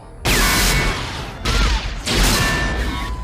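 A Pauza P50 .50 caliber anti-material rifle in a RoboCop 2 film scene fires three heavy, booming shots at regular intervals, each blast loud and close with a long rumbling tail.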